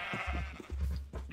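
Cows in the video game Minecraft give a few short, low mooing calls in quick succession, close and fairly loud, with no talking.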